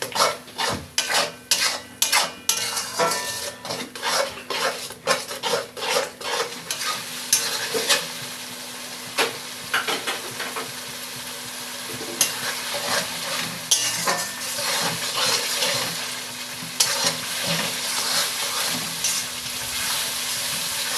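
Onion paste and tomato paste masala for a Bengali mutton curry is stir-fried in a pan: rhythmic, close spatula scrapes at first, then a steady loud sizzle with occasional stirring strokes, no voices.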